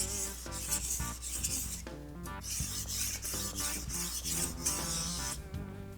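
Rhythmic scraping strokes of a dull knife drawn across a Bob Kramer Zwilling sharpening stone, repeated rasping passes at an even pace, close and fairly loud with no voices.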